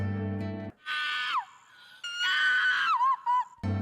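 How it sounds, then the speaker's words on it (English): A girl screams hysterically in two long, loud, piercing bursts, with wavering pitch that drops at the ends of each cry. Low music plays briefly before and after. "screamed hysterically, fearing the worst"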